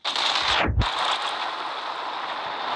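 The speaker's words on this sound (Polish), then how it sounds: "Wsadzimy się fajerwerki, nie wiem po co. Wsadzamy się te bomby. No i wybuchamy." In the Melon Sandbox video game, bombs and fireworks go off as one sharp, loud blast, followed by a dense, sustained hiss and crackle that holds steady to the end.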